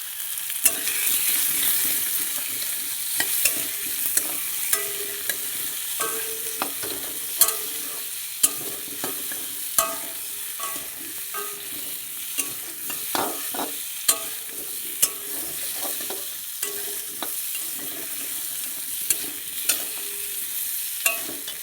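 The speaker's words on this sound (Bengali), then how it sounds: "এটা একটু ভাজা হোক 2-3 মিনিট।" Chicken pieces coated with turmeric fry in a pan with a steady close sizzle, broken by the scrape and clack of stirring that recur throughout; no one speaks.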